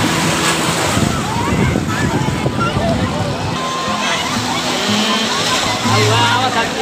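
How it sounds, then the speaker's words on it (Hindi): Loud, continuous surf roar from the Arabian Sea at Haji Ali Dargah, Mumbai, with water sloshing and rushing, buffeted by wind noise on the microphone; people speak briefly over it. "देखो लहर आ रहा है, बहुत जोरदार आ रहा है लहर"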